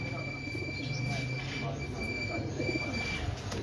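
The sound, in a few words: pigeon cooing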